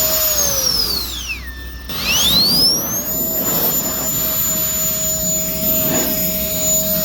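Handheld turbo fan set to turbo mode, its loud jet-like whine sweeping down briefly then climbing back to a steady high-pitched roar with sharp tonal lines.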